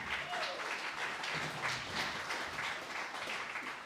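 A community crowd applauds at a mental health and wellbeing launch in Geevagh, a steady dense patter of many hands held at even loudness throughout.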